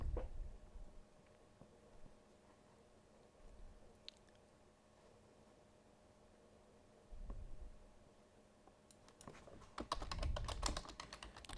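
Computer keyboard keys tapped in short bursts, faint clicking at first, then a denser, louder run of typing near the end in a quiet room.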